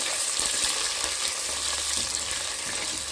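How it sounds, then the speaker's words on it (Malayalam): Onion, ginger and garlic frying in coconut oil for a sardine fish curry, a loud continuous sizzle with scraping stirs close by, no one speaking. "ഇന്ന് നന്നായിട്ട് നമുക്ക് ഈ വെളിച്ചെണ്ണയ്ക്കകത്തൊന്ന് മൂപ്പിക്കാം"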